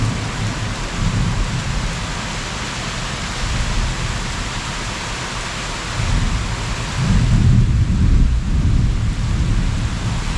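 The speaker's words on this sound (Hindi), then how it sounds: "देखिए कितनी तेज़ बारिश हो रही है।" Heavy rain pours steadily on surfaces in Maheshwar, a dense constant hiss with low rumbling swells of distant thunder rising and falling through the downpour, and no voices.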